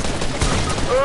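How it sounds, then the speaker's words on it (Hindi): Rapid gunfire from an online shooter game, with bursts of shots fired through walls, dense and continuous across a short stretch, a rising electronic tone near the end. "हाँ हैकर्स हैं ये लोग, वॉल्स के थ्रू फायरिंग कर रहे हैं।"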